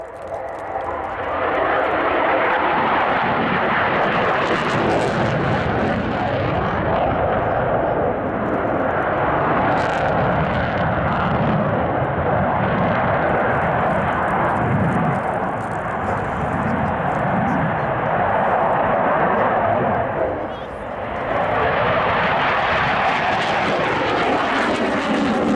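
A Polish Air Force Mikoyan MiG-29 flying display at RIAT 2012 gives a loud, continuous jet roar that holds steady for most of its length, briefly dips, then swells again.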